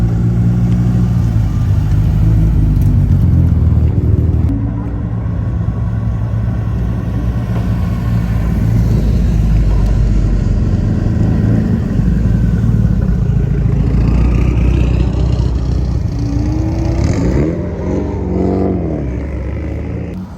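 A hot rod car engine rumbles loud and close at a car show, holding a heavy idle before revving up and down in rising and falling swells toward the end, with no talking.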